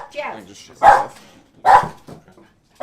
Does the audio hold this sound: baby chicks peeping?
no